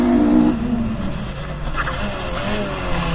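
A rally car of around 2000 vintage with roughly 500 hp races past at a rally sprint, its engine a loud, steady roar with a strained high note at the start, fading slightly as it continues under crowd noise.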